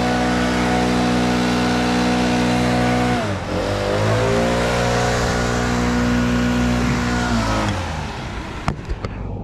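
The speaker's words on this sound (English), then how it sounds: "Pull the top hole up so I can get the skid steer back there." Skid steer engine working during forestry mulching, a loud sustained engine roar that dips and swells as the machine moves, with a few sharp knocks near the end.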